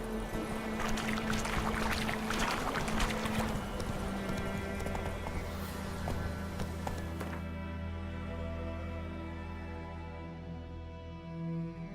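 Horse galloping in The Witcher 3 video game, a dense rhythmic clatter of hooves under a thick layer of ambience for about seven seconds, then the hoofbeats drop away and a sustained tonal hum remains.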